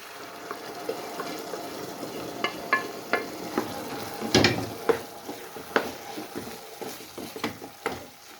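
Whole moth dal added to sizzling masala in a pan, a steady frying hiss with stirring scrapes and irregular close clicks and knocks from the spoon.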